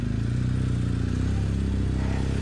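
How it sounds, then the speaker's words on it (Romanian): A racing motorcycle engine drones steadily and loud at a track day on a circuit, a low rumbling hum that holds even throughout. "Este motocicleta de curse."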